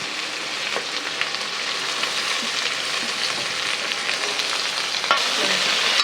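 Onions and a green chilli sauté in a pan for mutton chukka, giving a continuous, even sizzle close by with faint scraping from stirring.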